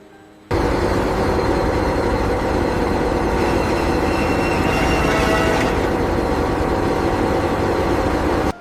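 A newly built modern locomotive rolls under its own power for the first time, a steady loud engine drone with rumbling rail noise holding constant from start to finish.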